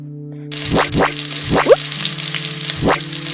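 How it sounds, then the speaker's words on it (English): Wet, squelching cooking sounds from a fast-food cooking video game: a frying hiss runs under several quick springy sweeping blips over a steady electronic hum, with no voices. "Something sounds like it's squelching."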